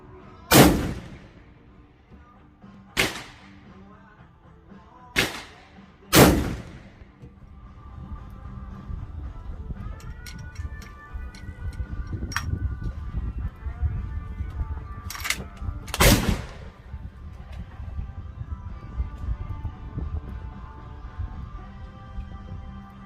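Several loud rifle shots ring out at an outdoor shooting range, five or six sharp cracks spaced a few seconds apart, with steady background rumble between them and no talking.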